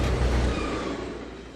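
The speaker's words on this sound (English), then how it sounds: "You hear that other train? That's probably that CSX going by." A freight train, a CSX consist, rumbles past in the Trainz 2022 simulator, heard as a steady low, slightly distant rolling roar that fades a little over the short stretch.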